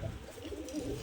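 A pair of domestic pigeons, a male and a female, coo softly in a low, rolling rhythm, faint and somewhat distant with no one talking.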